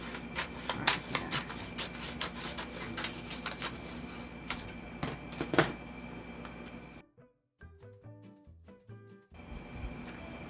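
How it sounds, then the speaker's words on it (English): Scissors or a blade snipping through a large stencil of craft material for Halloween haunted house decor, a dense run of crisp close cuts followed by a brief pause and a few sparser snips. "I'm going to just cut this"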